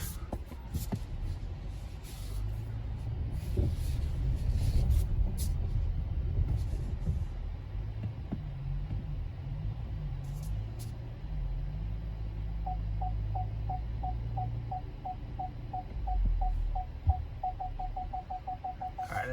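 A 2021 Hyundai Palisade Limited AWD SUV backs up slowly, its engine a low steady rumble inside the cabin, joined partway through by a rapid, even chain of parking-sensor beeps that keeps repeating until the end.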